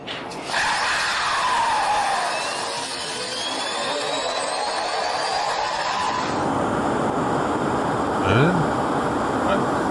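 An F-22 fighter jet engine starts up as a loud, distant roar with a rising whine. It shifts to a steadier broadband rumble partway through.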